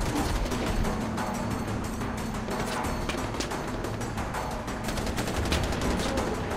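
Dense, continuous automatic gunfire from the video game Far Cry 4, with rapid overlapping shots and bursts filling the whole stretch at a steady, loud level with no pauses.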